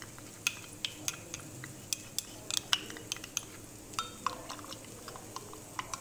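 Cornflour being stirred into milk in a bowl with a spoon, heard as a run of light, irregular clinks and scrapes against the bowl, close and fairly quiet, with no talking.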